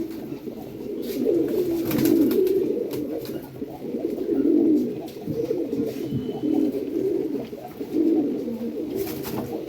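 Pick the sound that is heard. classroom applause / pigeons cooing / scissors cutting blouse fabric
pigeons cooing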